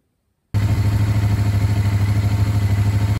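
A motorcycle engine starts abruptly after a brief silence and runs with a loud, steady, throbbing putter at close range, its rapid pulses continuing unbroken until it cuts off at the end.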